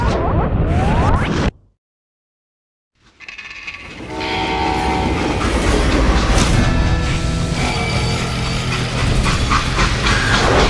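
Freight train in the Call of Juarez: Gunslinger video game: a loud, steady rolling rumble with a clattering high edge, cut by a short dead silence early on before the heavy noise returns and runs on unbroken.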